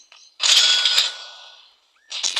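Bombs explode in a zombie video game, a loud crackling blast that fades over about a second, then a second burst begins after a short gap.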